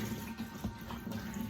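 Cold tap water runs steadily into a sink as potatoes are rinsed, a continuous close splashing stream with small shifts in flow and no voices.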